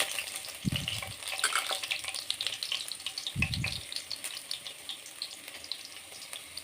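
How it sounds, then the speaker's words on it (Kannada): Finely chopped garlic and ginger fry in hot oil with a steady, moderate sizzle, and two low thumps from stirring or the pan shifting break through early on. "ಸ್ವಲ್ಪ ಫ್ರೈ ಆಗಲಿ."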